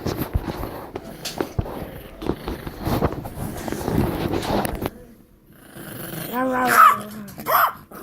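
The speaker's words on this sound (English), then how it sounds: "You weird dog." A dog growls and grumbles while tugging at a toy, ending in a couple of loud, close barks, with a person talking over the growls.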